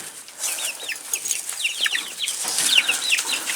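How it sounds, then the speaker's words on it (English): Guinea fowl in a cage outdoors give a busy run of sharp, chattering chirps and clucks. The calls overlap in quick bursts, sound fairly close and come without any talking. "aren't those guineas pretty? They are just interesting birds."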